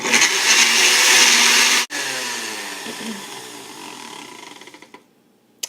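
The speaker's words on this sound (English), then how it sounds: "I'm going to go ahead and put the lid on again and blend some more" Blender whirring a berry, banana and spinach smoothie, loud and close, cutting out briefly, then spinning back up and winding down to a stop.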